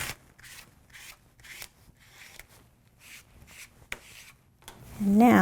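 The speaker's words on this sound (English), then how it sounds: "Use the scraper tool again." A scraper tool rubbing a vinyl transfer onto a shirt, heard as a run of short, close scratchy strokes in an uneven rhythm, ending with a louder rustle.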